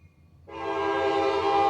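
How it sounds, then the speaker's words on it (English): A train passes close by, its horn or whistle starting suddenly and holding a loud, steady, rich tone after a quiet moment. "The train's going by."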